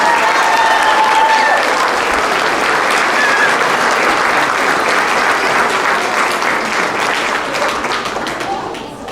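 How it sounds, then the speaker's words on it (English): An audience at a sixth grade graduation at Canyon Crest Elementary gives loud, sustained applause for award recipients. The dense clapping holds steady with crowd noise throughout, then fades slightly near the end. "Give them one more round of applause."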